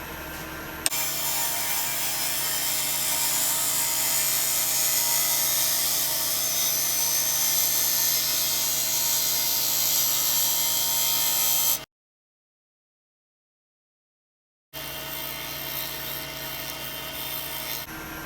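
A wood lathe turns a Viking-style bowl under cleaning passes, a steady broadband hiss and whir running unbroken for about eleven seconds, then a gap of silence before the same even cutting noise resumes. No voices.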